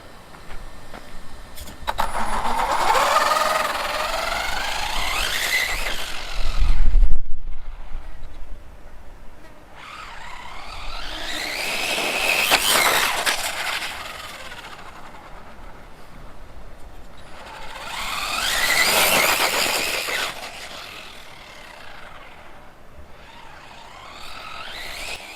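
An RC car with a Surpass 3900KV brushless motor on a speed run makes three passes, each a rising high-pitched electric whine that sweeps up and then fades, with quieter gaps between the runs.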